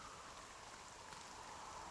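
Steady rain falls in the video game NieR Re[in]carnation, a soft even hiss of drops with no pauses, moderately quiet and alone.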